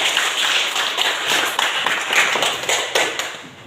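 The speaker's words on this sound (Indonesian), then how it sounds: "tepuk tangan dulu untuk Saskia." A class clapping for a student's presentation, a dense, steady patter of many hands at moderate distance, lasting several seconds without talk.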